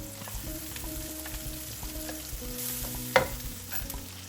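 Onion and tomato fry in a pan, a steady soft sizzle with light stirring throughout and one sharp clink near the end, no talking.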